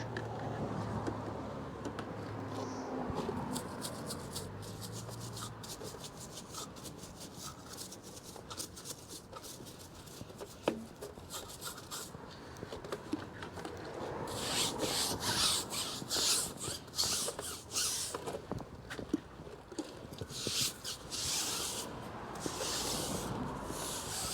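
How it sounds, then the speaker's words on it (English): A nylon brush scrubs the exterior of a Chevy Colorado pickup during a wash, giving repeated rough rubbing strokes, moderately close, that grow denser and brighter in the second half, with no speech. "Here's my nylon brush."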